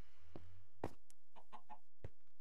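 A chicken clucks in the Minecraft Stoneblock modpack: a few quiet, scattered clucks and short squawks over a faint low hum, with no talk.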